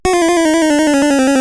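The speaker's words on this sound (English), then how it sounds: "Channels 1 and 2, as we had just learned, are the square pulse channels and sound something like this" Game Boy square pulse wave channels give a loud, buzzy chiptune tone with a slightly falling pitch and steady rapid pulsing, close and alone.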